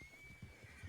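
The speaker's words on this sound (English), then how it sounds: "Whoa, horses." Horses in the Red Dead video game, a short whinny with a few soft snorting pulses, faint and close, with a thin tonal whine over it.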